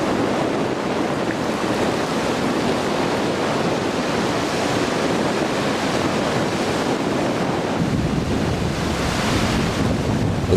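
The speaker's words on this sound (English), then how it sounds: "got the sea beating again" Sea waves beat continuously on a beach while worming for bait, a loud, unbroken wash of surf mixed with gusting wind buffeting the microphone.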